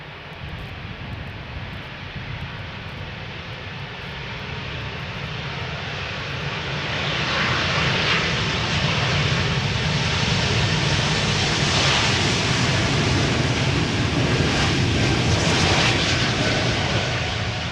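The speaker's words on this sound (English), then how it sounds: "First up, this E2 Embraer 195 to Bologna." A KLM Embraer E195-E2 jet takes off at Schiphol's Polderbaan, its engines swelling from a distant whine into a loud, sustained roar as it spools up and passes, with no talking.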